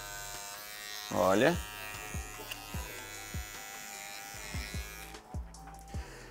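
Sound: electric hair clipper trimming a fade on afro hair

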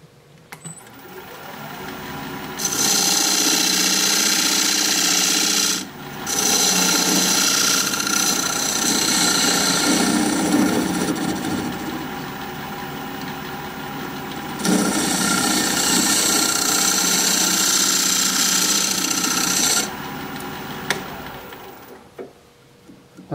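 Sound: recess tool cutting a dovetail in pepper wood on a lathe

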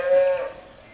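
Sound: cow mooing

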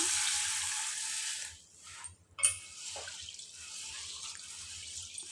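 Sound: washing sorghum grain in water

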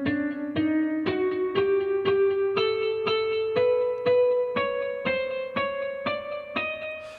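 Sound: MIDI notes E3 to B3 through Ableton Live Scale effect

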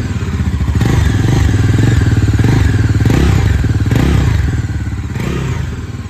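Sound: Bajaj Pulsar NS400Z motorcycle engine revving, exhaust note

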